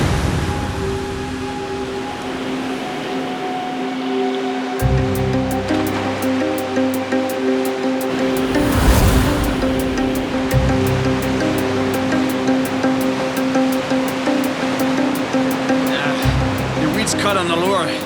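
Powerful river rapids rush and churn in a continuous loud roar of water, with someone talking over it and a repeated clicking ticking through the middle section.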